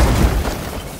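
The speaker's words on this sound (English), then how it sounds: "And cause the explosion" An explosion in the turn-based video game Warhammer 40k: Chaos Gate - Daemonhunters, a heavy low rumbling boom that starts strong and slowly fades over about a second.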